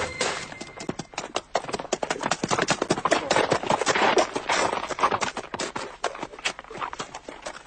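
Horse hooves clip-clopping in a Tintin cartoon, a dense run of sharp, rapid hoof clops that swell in the middle and then ease off, close and loud, with no talk.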